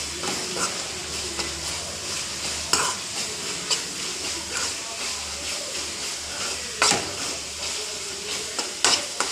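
A dried fish curry sizzles steadily in a pan while a spoon scrapes and stirs it in repeated strokes, close and moderately loud, with a soft continuous hiss throughout.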